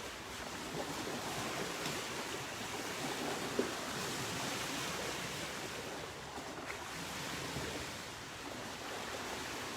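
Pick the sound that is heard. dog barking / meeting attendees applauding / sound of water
sound of water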